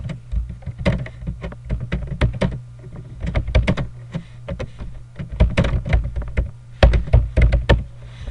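Someone types on a computer keyboard while formatting text in Microsoft Word, irregular bursts of clicky keystrokes with short pauses, close and fairly clear, no voices.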